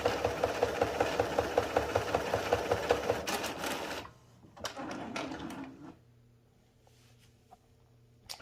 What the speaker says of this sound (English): just run the printhead clean, and that should do it